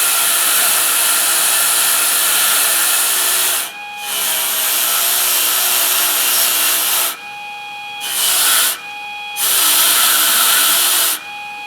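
A JoolTool rotary sanding and polishing unit works over a piece of copper metal clay, a steady loud whirring hum with brief dips where the piece is lifted off the wheel, several short gaps across the stretch.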